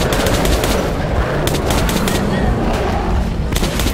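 Automatic gunfire in the shooter game Metro 2033 Redux, a dense continuous burst of rapid shots that runs loud for the whole stretch, with no talk over it.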